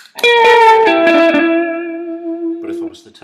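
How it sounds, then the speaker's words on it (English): Electric guitar through a Donner pedal board with delay and reverb on: a few plucked notes, then a sustained tone that blooms and slowly fades with echoing tails, close and clear, without talking. "I'll try it with the reverb as well."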